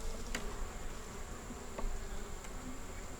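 Honey bees in a three-frame nuc hive with a new queen, a dense, steady buzz heard up close and unbroken, with no voices.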